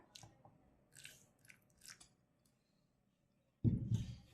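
A young granddaughter chews a soft wheat and milk dish, producing faint, sporadic wet bites and mouth clicks, followed by a louder burst of close handling noise at the end.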